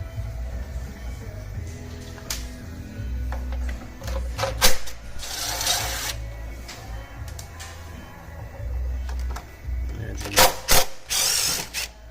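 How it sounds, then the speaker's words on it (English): Bolts being removed from the fender of a Honda ST1300 motorcycle during tire work, with a steady mechanical whir and intermittent bursts of ratcheting and metallic clicks, the louder bursts near the middle and end. "So I'm going to take these bolts out."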